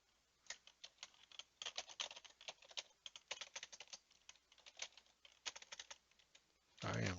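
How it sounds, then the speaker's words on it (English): Rapid typing on a computer keyboard, close and continuous with irregular bursts of key clicks, ending in a louder thump. "I'm typing too fast here"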